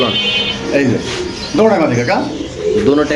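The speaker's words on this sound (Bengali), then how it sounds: "চারটা স্প্যানিশ কবুতরের মাদি আপনাদের দেখাচ্ছি" Spanish pigeon hens at a pigeon farm coo in soft, repeated bubbling calls close by, with people talking over and between the cooing throughout.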